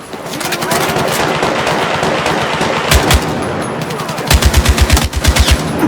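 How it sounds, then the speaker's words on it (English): Battlefield 6 campaign combat with loud, close gunfire: a sustained crackle of shots, then rapid machine-gun bursts with heavy low thumps, rising near the end over a constant background of battle noise. "Commence firing!"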